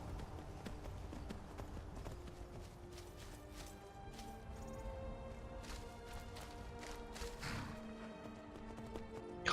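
Horse hooves clip-clop in a steady, quick rhythm in the Skyrim video game, crisp and close over a low bed of ambient music.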